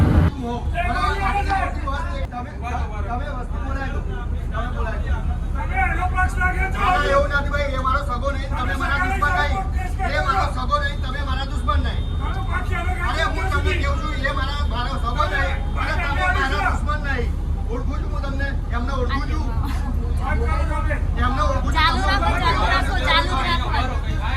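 A crowded BRTS city bus in Ahmedabad is full of dense, overlapping passenger chatter that rides over the constant low rumble of the moving bus. The babble is loud and close throughout.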